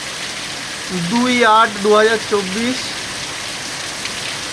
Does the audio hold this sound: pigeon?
no